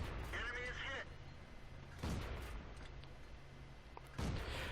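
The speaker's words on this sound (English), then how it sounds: "You'll note that I'm shooting at the tank even though it's not visible." A Valentine II tank firing its main gun in a World of Tanks battle on the Steppes map: three separate heavy booms, roughly two seconds apart, each followed by a rumble, with someone talking over them.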